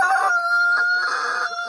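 A farm rooster crows once, loud and close, a bright drawn-out call that holds for more than a second and fades slightly at the end.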